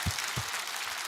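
A lecture audience applauds, giving a brief, fairly faint patter of claps with a couple of low thumps at the start.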